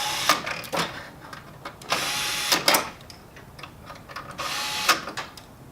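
Screws are driven down on a Kyocera TASKalfa 3501i/5501i copier during a power board replacement, heard as several short bursts of tool and screw noise separated by quiet pauses, close to the mic.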